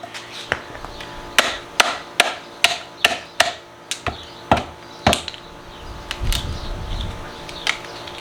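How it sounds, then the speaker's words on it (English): A hammer strikes wood about a dozen times in a steady rhythm while building a table, each blow a sharp close knock, followed by fainter handling and scraping sounds. "Had to go grab a hammer real quick."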